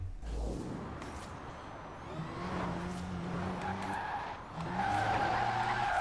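Tires squeal and skid as a Rimac C Two drifts in Forza Horizon 4, with 45 PSI rear tire pressure; a long, wavering screech over a steady electric whine, rising in pitch near the end.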